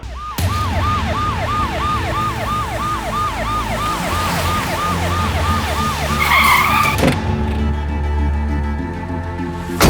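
A wailing ambulance siren cycles rapidly and loudly over traffic rumble, then cuts off abruptly near the end, leaving a lower engine hum.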